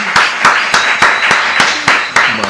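Applause for a guest on a podcast set, heard as a string of sharp, evenly spaced claps, roughly three per second, loud and close, with faint voices beneath.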